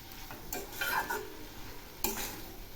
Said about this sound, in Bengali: এখন আমি একটু ঘন ঘনই নাড়ব